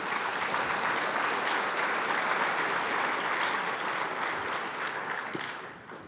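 Sustained applause from a lecture audience at a Hillsdale College event on political corruption, a dense steady clatter of many hands that holds level before tapering slightly near the end.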